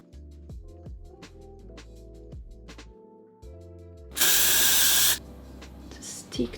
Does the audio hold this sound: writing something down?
no